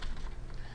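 Quick clicks of typing on a computer keyboard, a short close burst of keystrokes with no talk over them.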